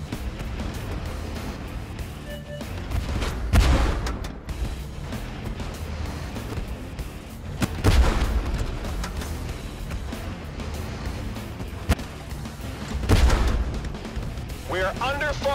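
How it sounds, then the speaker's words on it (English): Heavy artillery fire from tanks in the video game Tank Force, with a few deep booming blasts spaced several seconds apart over constant engine rumble and game sounds, with voices talking over it. "We are under fire. We are under attack!"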